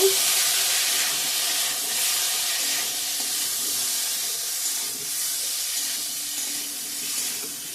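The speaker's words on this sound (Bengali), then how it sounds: "ভাজা ভাজা হয়ে গেছে তেল ছেড়ে দিয়েছে ভালো করে ভেজে নিয়েছি মশলা" Ground chili, coriander and cumin masala sizzling in oil for a potato and pointed gourd curry, a soft continuous hiss with gentle swells, steady and close, no voices.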